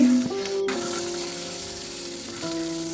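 Eggplant slices fry in hot oil in a pan, a steady, close sizzle that holds evenly throughout with a faint stir partway through.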